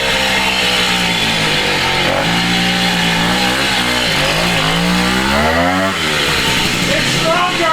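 A 1969 Morini 50cc two-stroke Italian mini bike engine running loud and close, revving up and down with rising and falling pitch throughout, with voices heard over it.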